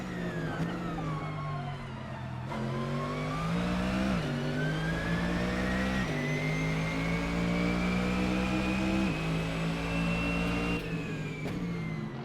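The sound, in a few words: Mercedes-AMG GT3 Evo engine revving, Assetto Corsa video game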